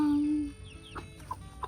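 Chickens on a farm give a few short clucks nearby, heard after a brief tonal sound at the start.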